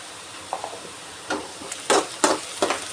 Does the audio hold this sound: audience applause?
no